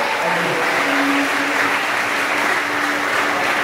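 Schoolroom of students at a Ramadan pesantren kilat session in SMPN 1 Kramatwatu breaking into loud, dense, sustained applause from many hands, continuous throughout with a faint voice underneath.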